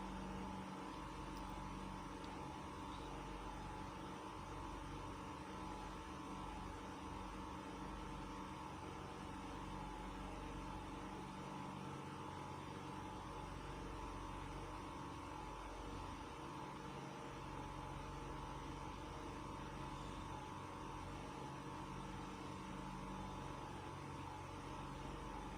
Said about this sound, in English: So I'm going to sew on one side.